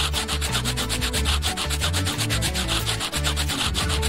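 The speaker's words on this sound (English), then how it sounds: "We need to sand these noodles down," Dried noodles being sanded flat by hand for a craft project, giving a steady, continuous rasping scrape with rapid repeated strokes, close and fairly loud with no talk.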